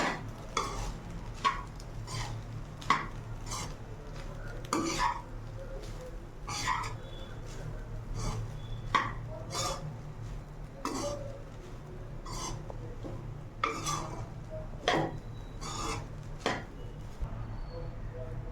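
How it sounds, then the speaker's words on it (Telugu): Egg fried rice with egg and curry leaves is stir-fried in a pan. A spatula scrapes and clatters in sharp, regular strokes over a faint sizzle, with some talk and coughing. "ఇప్పుడు ఇట్లా అన్నిటిని బాగా ఫ్రై చేసుకోవాలి."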